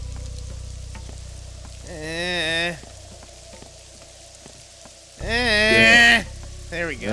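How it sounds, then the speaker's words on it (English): Steady rain hisses through a Pathologic 2 game scene, a continuous broadband patter running the whole time while someone talks over it in two bursts. "And I'm walking in the rain."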